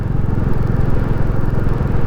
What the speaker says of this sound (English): Can you hear that engine just plodding up here?